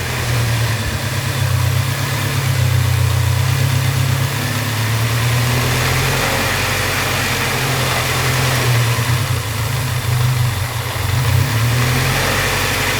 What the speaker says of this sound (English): Tanner put a hose on something underneath the intake and it fixed the idle